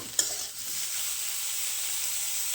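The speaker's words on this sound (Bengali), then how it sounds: "বেগুনটা বেশ কিছুক্ষণ ভেজে নেবো যাতে একটু লাল লাল মতন হয়ে যায়" Brinjal pieces frying in oil in a village kitchen pan, a steady close sizzle that holds evenly throughout, with one sharp clink of a spatula near the start and no voices.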